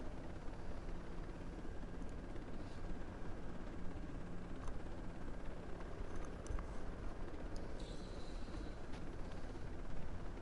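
Helicopter flying in a video game, a steady broadband rotor and engine roar filling the whole span at an even level, with no talk over it.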